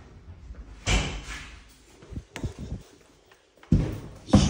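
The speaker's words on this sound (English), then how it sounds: "Let me just try this door." Doors in an abandoned hospital bang shut several times, with four sharp, loud slams spaced irregularly and quieter thuds and rattles between them.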